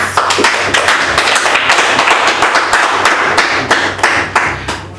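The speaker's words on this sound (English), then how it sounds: "Please, a round of applause." Loud, close hand clapping from a small studio audience on a talk show, with distinct individual claps and occasional thumps forming an uneven, lively patter throughout.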